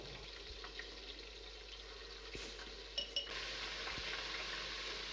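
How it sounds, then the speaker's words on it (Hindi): Ginger-garlic paste frying with spices in a pan for a cabbage dish gives a steady, close sizzling hiss. A couple of sharp utensil clinks land near the middle, then the frying grows louder and fuller, with no voices. "अदरक लहसुन डालकर भी मैंने इसे थोड़ा सा भून लिया"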